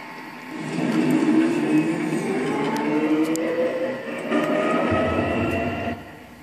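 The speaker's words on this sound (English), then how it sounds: "riding inside the tram." Tram in the Trainz railway simulator game, heard from inside as it rolls along with a rising rumble and gliding whine, continuous and fairly loud, easing off near the end.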